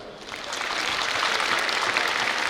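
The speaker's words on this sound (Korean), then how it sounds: "여러분 모두 자기 자신을 축하하기 위해서 박수 한번 치십시다." Graduates applaud together at a university degree ceremony in an indoor hall, a dense, steady wash of clapping that swells slightly and holds for a couple of seconds with no voices over it.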